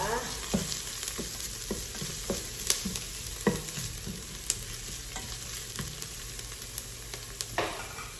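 Onion and garlic sauté in a Nutricook smart pot, a steady frying sizzle broken by regular scraping stirs and light utensil knocks close at hand.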